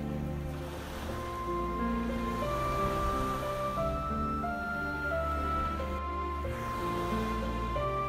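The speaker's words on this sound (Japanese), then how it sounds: "ざーっと波が来る。" Surf rolls onto a white sand beach on Tanegashima, a broad, continuous rushing of waves at moderate loudness, with some wind and no voices.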